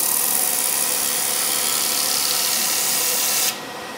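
A power-driven sanding disc on a woodturning lathe works against a wooden bowl at slow speed, giving a steady close whirring hiss that drops off sharply near the end.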